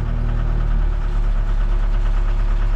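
An engine idles steadily close by, a loud, constant low rumble with a slight rough pulse and no variation through the short stretch.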